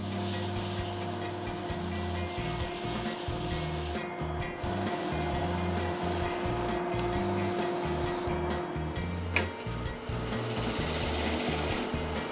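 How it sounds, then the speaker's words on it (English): Steady machine hum of a spinning lathe with continuous abrasive rubbing as a hollow wooden vessel is sanded, one brief click partway through. "We'll go ahead and do the finished sanding on this"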